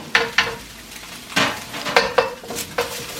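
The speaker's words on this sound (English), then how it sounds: "Then we put in the garlic." Garlic dropped into a hot frying pan while cooking beef and vegetables with cashew nuts, giving several short, close sizzling bursts mixed with light stirring scrapes and clinks of a utensil against the pan.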